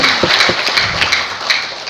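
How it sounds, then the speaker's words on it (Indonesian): Applause from a seminar or training audience, a dense wash of claps with a few sharper hand strikes standing out, fairly loud and steady throughout, with no speech over it. "tepuk tangan dong"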